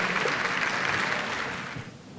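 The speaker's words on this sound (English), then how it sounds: "Give them a round of applause." Audience applause at a networking luncheon, dense clapping that holds steady at first and then gradually thins and fades toward the end.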